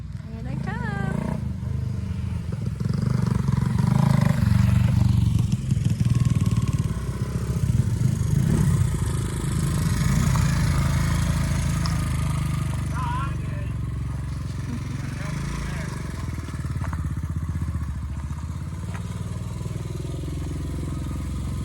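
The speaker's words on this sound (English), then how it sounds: "That exhaust sounds amazing though." Motorcycles ride up with a loud, sustained engine and exhaust rumble that swells early, then holds steady, while people talk over it.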